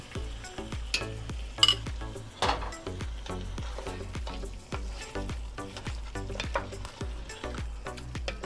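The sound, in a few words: stirring yogurt into frying mutton chops masala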